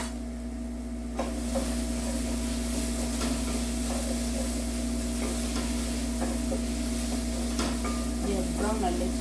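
Onions frying in a pan for lamb tripe (matumbo), a steady sizzle under a constant hum, with occasional stirring scrapes and clinks close by.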